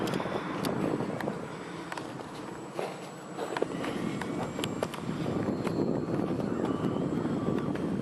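An RC airplane flies low, close loops in ArduPilot stabilized mode on a breezy day, its motor a steady whine that swells and fades as it passes, mixed with rough wind buffeting throughout.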